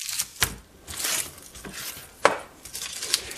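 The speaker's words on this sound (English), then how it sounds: "the first step is to cut off the ends of our onion" Knife cutting the ends off an onion on a cutting board, a few sharp separate chops and board knocks with a quiet kitchen clatter between them, fairly near and moderately loud.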